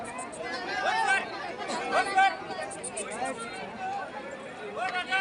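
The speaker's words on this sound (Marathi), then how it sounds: "खूप गर्दी आहे" Dense crowd chatter fills a busy Tuljapur temple, a steady hubbub of many overlapping voices close around with no single speaker standing out.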